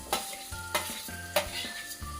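Boiled potatoes sautéing in a pan, with four or five crisp spoon scrapes against the metal over a gentle sizzle, close and fairly quiet.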